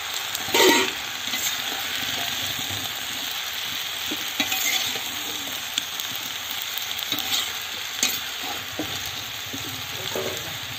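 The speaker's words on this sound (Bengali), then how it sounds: "ভালো মতো আমরা ভেজে দেবো।" Malabar spinach (pui shak) fries and gets stirred in a pan, giving a steady loud sizzle with scraping stirs and occasional sharper spatula knocks, alone without voices.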